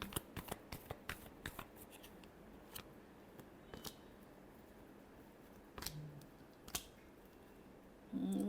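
Tarot cards are shuffled by hand, heard as a quiet, close flurry of crisp riffling snaps, then scattered single flicks and taps.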